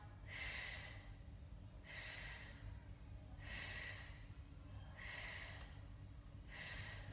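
Slow, steady breaths during a Pilates single leg stretch on a mat, with soft airy exhales recurring about every one and a half seconds, close and quiet, with no speech.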